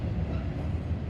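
A general merchandise freight train, a mixed work train, picks up speed at Oak Harbor, giving a steady, loud, continuous low rumble of rolling cars with no pauses or voices.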